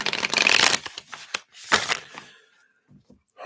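A deck of tarot cards is shuffled by hand in a couple of close, crisp riffling bursts, each trailing off into near silence.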